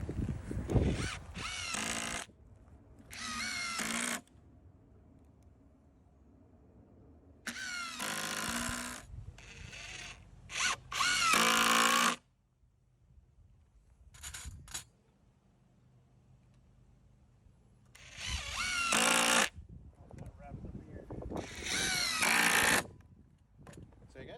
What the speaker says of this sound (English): We've laid all the boards on top, centered that first one, clamped it, and now we'll just put in screws.